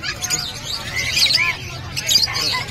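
A red factor canary chirps in its cage at a pet market in Bocaue, its bright tweets rising over a steady murmur of crowd noise and nearby voices.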